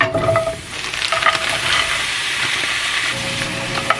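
Frozen mushroom chicken hits an oiled pan and sizzles loudly and steadily, with the scrape and clatter of stirring now and then and no voices over it.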